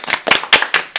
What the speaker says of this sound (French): on peut t'applaudir